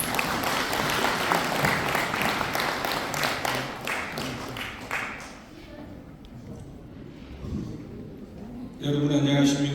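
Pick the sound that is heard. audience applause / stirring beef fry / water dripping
audience applause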